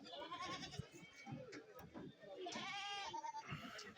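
Goats and a large billy goat bleat repeatedly at a busy livestock market in Kerala, their cries rising over crowd chatter and nearby voices.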